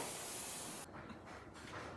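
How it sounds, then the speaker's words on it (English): A tri-tip steak on a gas grill's sear box gives a loud, close, steady sizzling hiss that drops off sharply partway through, leaving a softer, uneven crackle. "Love that sizzle."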